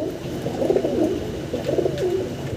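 Pigeons coo close by in soft, repeated low throaty calls, two clear bursts over a steady background hum.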